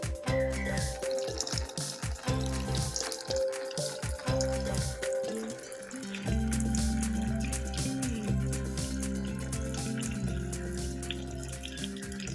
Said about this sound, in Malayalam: ഇത് വെച്ച് കഴിഞ്ഞിട്ട് വെള്ളം നന്നായിട്ട് വരും